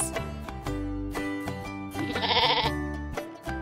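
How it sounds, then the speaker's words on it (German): A sheep bleats in short, wavering cries over light background music from a children's animal program, moderately loud and near. "Das ist ein Schaf."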